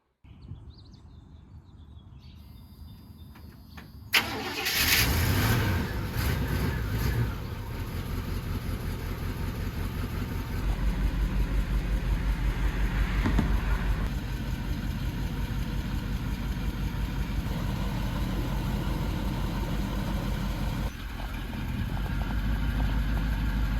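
A car engine, the KRUSTY K10, runs steadily while driving on the street, a continuous low drone after a brief knock at startup, with birds faintly audible in the background.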